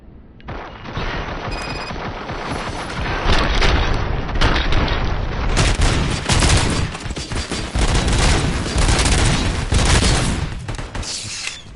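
Heavy gunfire in Robocop: Rogue City, a loud sustained barrage of rapid shots and booming impacts that starts after a short quiet moment and keeps hammering almost without pause to the end.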